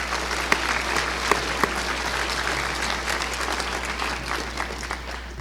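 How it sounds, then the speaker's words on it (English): A pharmacy convocation audience at the University of Utah applauds the John Flanders Jazz Group, steady full applause with a few sharper claps standing out, filling the hall without speech. "Let's give them a round of applause."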